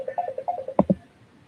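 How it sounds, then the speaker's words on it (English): A phone ringing through a computer gives a short run of electronic tones, then a few louder synthetic beeps near the end before it goes quiet. "my phone was ringing through my computer"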